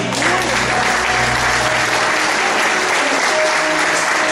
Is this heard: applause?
yes